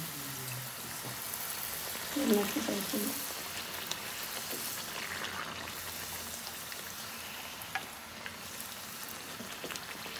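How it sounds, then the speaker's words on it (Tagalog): Flatbread cooking on a hot stove, heard as a steady faint sizzle with soft crackle throughout, a brief louder puff and scrape near the start, moderately close with no talk. "nilalagay lang natin siya dito sa may mainit na kalan, guys"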